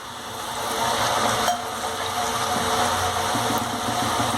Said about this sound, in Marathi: आणि आता मध्यम आचेवरती चकली पूर्ण तळून घ्यायचं